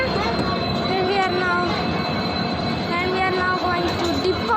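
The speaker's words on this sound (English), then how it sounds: "And here comes the Vistadum bogie." An Indian Railways train with Vistadome coaches rolls past close by, a loud continuous rumble of wheels and carriages with squealing, shifting wheel tones throughout.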